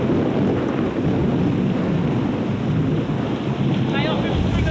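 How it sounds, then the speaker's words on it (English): A thunderstorm with heavy rain pours down on an island, a loud, dense wash of rain and rumbling thunder with wind buffeting the microphone, steady throughout the whole stretch. "That's a real storm."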